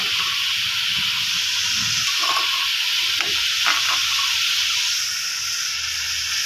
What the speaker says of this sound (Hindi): तो इसको थोड़ी देर अभी भूनते हैं